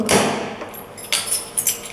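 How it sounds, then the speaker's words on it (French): Keys jangle and a small metal key lockbox clicks shut at a holiday loft rental in Rome, a burst of metallic rattling followed by a couple of sharp clacks at close range. "Une fois retiré les clés, fermez la boîte"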